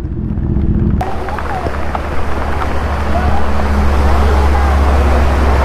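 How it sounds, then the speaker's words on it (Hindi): Steady, heavy broadband rush of downpour at Mount Abu, Rajasthan, that starts abruptly and continues loudly throughout, with a low rumbling undertone. "तेज बारिश है, बहुत तेज बारिश है।"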